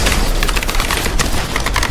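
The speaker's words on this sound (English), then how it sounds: "Why did you just start shooting at me" Rapid gunfire in a video game match, a dense crackling stream of shots filling the whole stretch, loud and steady with no pauses.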